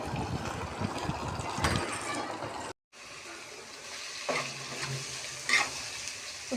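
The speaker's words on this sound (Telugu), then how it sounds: "ఆనియన్స్ అయితే ఫ్రై చేస్తాను." Onions frying in a pan at home, a soft continuous sizzle with occasional stirring scrapes and a brief gap partway through, fairly quiet and close with no talking.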